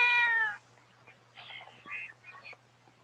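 A kitten gives one clear, fairly loud meow at the start, followed by a few softer, shorter vocal sounds in a quiet room.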